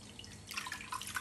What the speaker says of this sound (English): you're gonna just squeeze the husks of the coconut like this and get all the liquid out